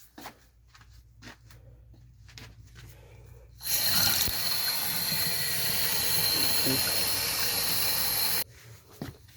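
A laundry tap turned on after work on a backflow valve, a sudden steady gush of running water that lasts about five seconds before cutting off, preceded by clicks and handling noises.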